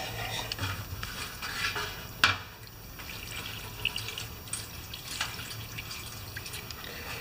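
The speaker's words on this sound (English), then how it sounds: "I'm just going to rinse this in some solvent." Metal parts from a Toro Pace mower are rinsed in solvent, with soft liquid splashes, drips and small metallic clinks against a container, faint and irregular.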